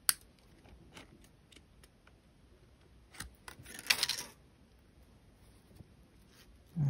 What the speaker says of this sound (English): take my coil and I'm gonna cut this end off here.